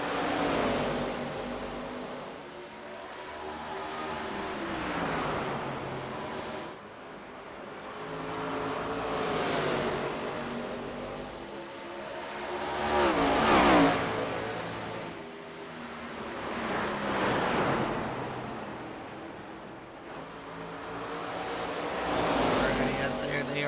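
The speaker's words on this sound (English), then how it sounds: "Mike Perry in that number 22 Chevrolet, as Perry gets a little bit sideways out of the corner this time by" ARCA Series Chevrolet stock cars racing at Richmond Raceway, engines swelling and fading in repeated pass-by waves with a commentator talking over the roar throughout.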